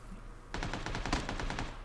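Rapid automatic gunfire in PlayerUnknown's Battlegrounds, a burst of about a dozen close, loud shots in quick rhythm starting after a short quiet lead-in.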